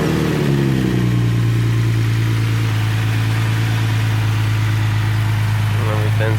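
A Nissan 370Z fitted with a Stillen Gen 3 dual cold air intake and Tomei exhaust starts up, then settles into a loud, steady, close idle that holds for several seconds.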